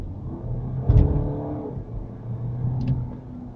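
Powerful family car in comfort mode accelerating, a smooth engine hum building and rising in pitch from inside the cabin, moderate and steady with a slight dip and second swell.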